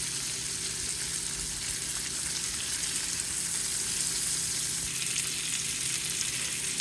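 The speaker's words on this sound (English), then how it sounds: "I fry onions, green chili, ginger and garlic in a frying pan." Chopped onions, green chili, ginger and garlic frying in a pan, giving a continuous, even sizzle and crackle that holds steady throughout, close up, with no talking.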